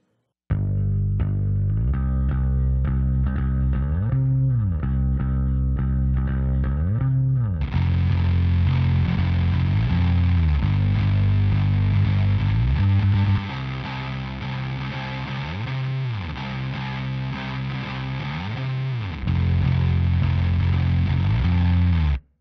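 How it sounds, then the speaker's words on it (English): Electric bass played through a Native Instruments Guitar Rig 5 amp plugin, with a heavy distorted tone, sliding bass notes and a thick, fuzzy upper grit starting partway in, loud and steady with no talk. "This allows me to blend in as much or as little distortion as I want, without sacrificing any of the low end of the original bass signal."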